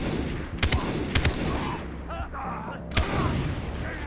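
Gunshots in the video game Far Cry 3: several sharp, loud single shots spaced about a second apart, with an echoing tail and a few quieter sounds between them.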